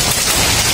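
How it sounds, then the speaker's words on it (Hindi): Large hailstones pelt down hard during the first summer storm, a loud, dense, continuous clatter filling the whole short stretch with no pauses. "ओले हैं, वो काफ़ी ज़्यादा तेज़ हैं।"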